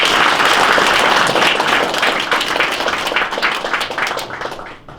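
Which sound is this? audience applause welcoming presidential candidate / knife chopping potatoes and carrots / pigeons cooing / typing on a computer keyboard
audience applause welcoming presidential candidate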